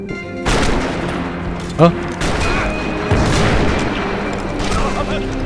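A burst of gunshots and booms in the video game Max Payne 3 rings out loud and close, mixed with game sounds, while voices talk briefly.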